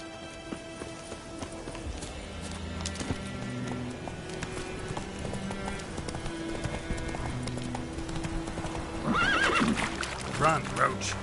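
Roach, a horse in The Witcher 3 video game, gallops with steady rhythmic hoofbeats under game music, then gives loud whinnies near the end; a voice speaks over the scene.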